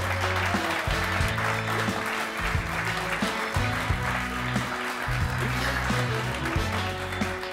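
Studio audience applauding to welcome quiz show contestants on a televised film quiz, a steady loud wash of clapping running through the whole stretch with some music or noise beneath.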